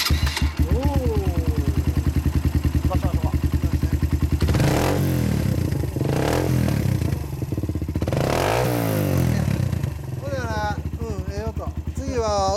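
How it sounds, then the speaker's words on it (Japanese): A scooter fitted with an original Horio Racing exhaust idles steadily up close with a throbbing, even beat, rising in two short throttle blips midway, while people chat over it. "ではほんなエンジンを聞かせてもらいましょうか。 ホリオレーシング。"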